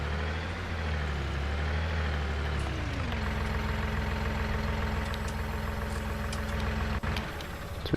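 Vehicle engine idling in Farming Simulator 19, a steady low rumble that drops to a lower, even drone after a few seconds and holds close and loud until a brief click near the end.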